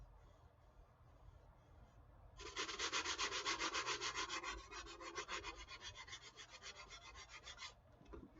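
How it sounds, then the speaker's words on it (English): Soft, rapid back-and-forth fine sanding strokes on repaired foam start after a quiet moment, a rhythmic close-up rasp that continues steadily before stopping. "And then just a little bit fine sanding here,"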